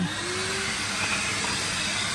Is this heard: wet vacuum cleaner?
yes